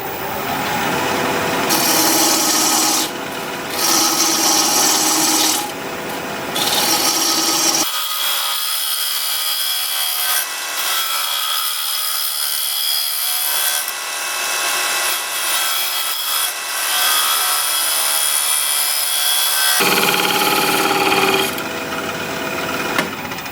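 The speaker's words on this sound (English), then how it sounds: "I'll just stick with the 1/2 inch bowl gouge for that" A 1/2 inch bowl gouge cuts curly maple spinning on a lathe, giving a steady hissing scrape in repeated passes. Brief pauses break the cuts, and one long stretch is smoother and lighter.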